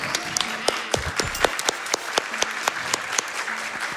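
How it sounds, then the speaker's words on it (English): Audience applause at a speedrunning charity marathon event, a sustained patter of many hands clapping for several seconds, fairly close and steady without talk. "Can we get a clap for this, by the way?"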